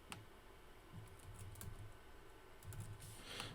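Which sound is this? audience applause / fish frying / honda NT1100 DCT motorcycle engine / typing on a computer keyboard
typing on a computer keyboard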